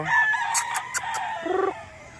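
A rooster crows nearby, with hens clucking softly around it in a busy farmyard.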